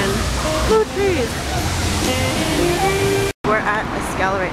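A waterfall in Westlake Park in downtown Seattle gives a steady, loud rushing wash throughout, with people talking over it and a brief dropout near the end.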